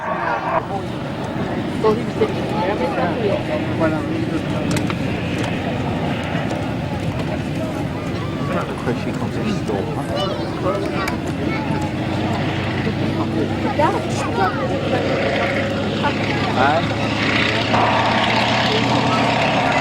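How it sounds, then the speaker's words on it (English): A large single-engine biplane flies slowly past at an air show, its engine a steady, moderate rumble heard at a distance beneath crowd babble and a public-address voice talking throughout. "Now you have an idea of just how slow this aircraft can fly"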